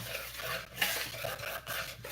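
A whisk beats pancake-style batter in a bowl for brunch, giving steady scraping, clinking strokes at close range in a quick repeating rhythm, with no talking.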